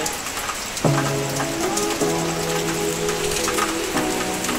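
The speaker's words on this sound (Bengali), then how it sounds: "এই দেখো বৃষ্টি পড়ছে" Rain falls steadily in a monsoon downpour, a dense even patter across the whole stretch, with faint tonal household sounds layered over it.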